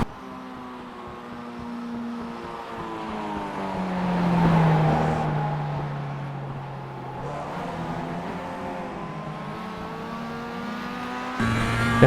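Mazda MX-5 race car engine droning steadily at high revs in the iRacing sim at Bathurst, carrying a continuous engine note with harmonic shifts as the revs rise and fall and a brief upshift near the end, with no talking.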